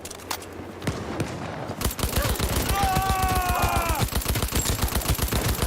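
Rapid automatic gunfire in Cyberpunk 2077, a dense machine-gun stream of sharp repeated shots starting partway in and continuing to the end, loud and close, with a whining tone over the middle and a voice talking briefly before.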